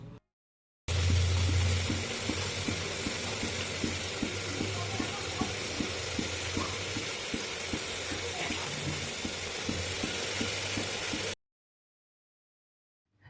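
Broken wheat daliya and potatoes fry without oil or ghee in a pan, giving a steady low sizzle with a faint regular rhythm of stirring, no talking, between short silences at start and end.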